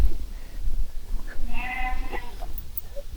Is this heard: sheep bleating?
yes